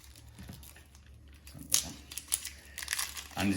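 Dry outer skin of a hard, out-of-season onion being peeled away by hand, soft papery crinkling and tearing that starts faint and grows into louder crackling bursts near the end, close up.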